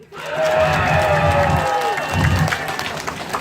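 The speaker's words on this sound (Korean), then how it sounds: "박수 소리 진짜 함성 소리 너무 크다" A large crowd claps and cheers loudly, with high shouts and whoops rising over dense, sustained applause.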